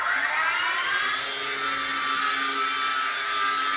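A small toy RC helicopter, a Black Spider-XT 2-channel model flown indoors, whines at full throttle, its rotors and tiny motor giving a steady high buzzing drone that rises slightly at the start and holds loud and close.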